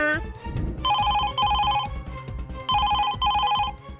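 An electronic telephone ring in a Bangla cartoon sounds in two bursts of repeated trilling tones, each burst made of two quick rings, over a bed of background music.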